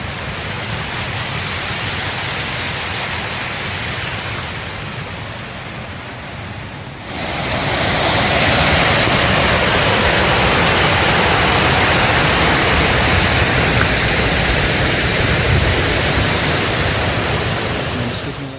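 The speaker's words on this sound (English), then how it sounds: "A calm and charming place where people stop to take photos or enjoy the sound of the water." Water running over a small cascading stone fountain in a town plaza in Peru, a steady broadband rush that grows louder and fuller partway through and stays continuous, with no talk.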